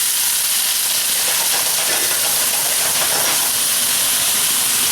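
Apples sizzling in a pan with caramel and butter: a loud, continuous, dense hiss and crackle filling the whole stretch, steady and close with no pauses.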